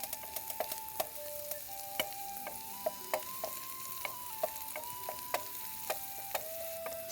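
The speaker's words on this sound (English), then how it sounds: "Now I'll add the chopped shallot and we'll saute for a minute or so until nice and soft." Chopped shallot sautéing in vegetable oil in a pan, a faint steady sizzle broken by frequent sharp clicks and taps of a utensil stirring against the pan.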